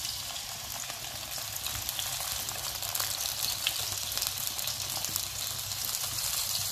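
Cherry tomatoes fry in a very hot pan with a thread of olive oil over a raised flame, giving a loud, steady, dense sizzle that holds evenly throughout with no talking.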